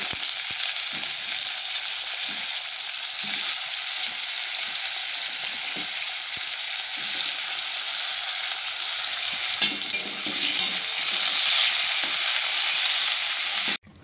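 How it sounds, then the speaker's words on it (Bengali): Potato pieces coated with salt and turmeric fry in hot oil in a pan, producing a loud, steady, close sizzle with occasional stirring scrapes and no talking. "প্রথমে আমি নুন হলুদ মাখিয়ে রাখা আলুগুলোকে একটু ভেজে নেব।"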